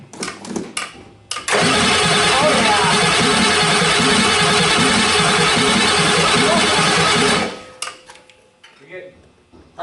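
A 1989 Ford 7.3 IDI diesel cranks with a rapid rhythmic starter chug for several seconds, loud and close, then cuts off, with brief voices talking before and after.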